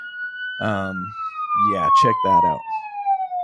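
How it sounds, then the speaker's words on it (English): A novelty lighter plays a thin electronic police siren tone that slides slowly downward and holds throughout, fairly close, while someone talks over it. "That one needs a freaking police siren"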